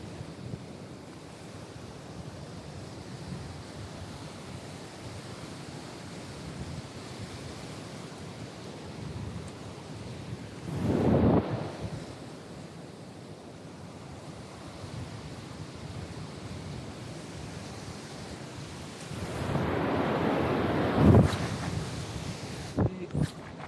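Steady wind rumbles against the microphone while light-tackle fishing by the sea in the Philippines, with two louder buffeting gusts that swell and fade, and no one speaking.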